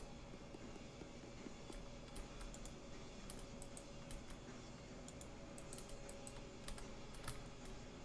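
Rapid, steady keyboard typing with scattered mouse clicks during video game play, close and fairly quiet over a low background hum, with no talking.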